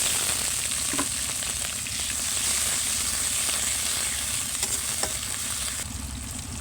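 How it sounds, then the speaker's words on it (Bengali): Fried onions in a pan sizzle and crackle steadily as a little water goes in, a continuous bright hiss with occasional sharp pops and a few stirring clinks. "এই যে আমাদের এরকম পেঁয়াজটা ভাজা হয়ে গেছে এখন সামান্য একটু পানি দিয়ে দিব যাতে পুড়ে না যায়"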